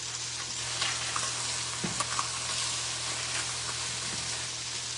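A salmon fillet fries in a 12-inch stainless nonstick pan, giving a constant close hiss broken by a few faint spits and clicks.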